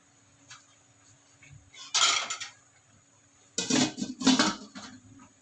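A metal lid is set down onto a cooking pot, two clanking bursts of metal on metal close by, with a brief earlier knock and quiet room tone between.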